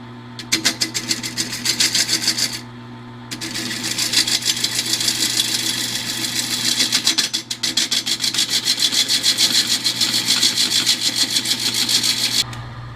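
A wood lathe spins a segmented wood sculpture mounted on a faceplate, a loud, steady rubbing whir with rapid rhythmic ticks, briefly stopping twice before resuming, heard close with no talk.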